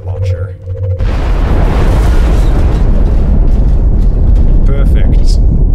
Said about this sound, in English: Blaster launcher.